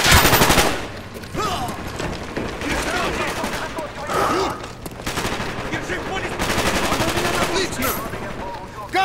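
Dense bursts of automatic and single gunfire from the video game Call of Duty Black Ops ring out loud and continuous, mixed with shouted voices and battle noise.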